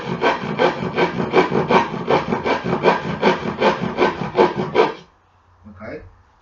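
Handsaw cutting through wood for a chess board, a steady run of rhythmic back-and-forth strokes, loud and close, that stops abruptly near the end, followed by brief quiet.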